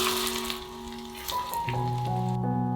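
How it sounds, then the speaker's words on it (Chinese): Hot oil poured over a bowl of minced garlic, small chili peppers, dried chilies and sesame seeds, giving a close, steady crackling sizzle with a brief sharper burst partway through. "泼上热油，香味就会被激发。"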